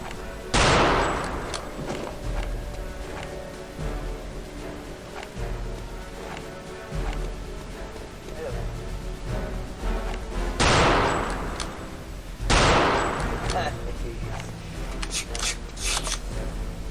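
Gunfire in Return to Castle Wolfenstein, with a few sharp, loud shots or bursts spaced several seconds apart over a constant rasping, grinding background.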